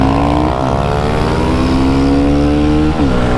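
A Start 160 motorcycle fitted with a blue Dore exhaust revs loudly and steadily, its engine pitch climbing and holding before a quick dip and rise near the end, close and alone.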